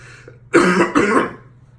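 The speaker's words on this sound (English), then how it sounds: "y'all just sat here and watched me cough like a crazy person" A fit of harsh, close coughing from choking on a piece of apple, in two loud bursts separated by a short pause, with a quiet low hum running underneath.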